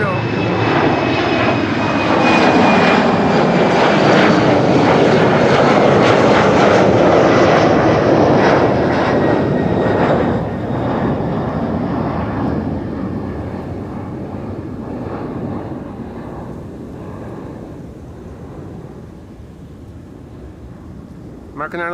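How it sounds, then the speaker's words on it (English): An American Airlines jet airliner at Schiphol Airport roars loudly with a rising engine whine, then gradually fades as it moves away, with a voice talking now and then over the noise. "American Airlines Flight 203 to Philadelphia is now lining up"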